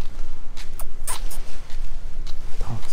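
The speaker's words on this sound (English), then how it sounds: "These dogs look hurting right now." Dogs on Pattaya beach in Thailand whimper and shuffle nearby, with brief high whines and rustling movement over a loud windy background.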